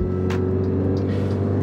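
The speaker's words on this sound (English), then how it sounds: "man, when you accelerate in this car" Alfa Romeo Giulia car accelerating, a steady low engine drone heard from inside the cabin, fairly loud and even, with a few brief higher noises over it and no talk.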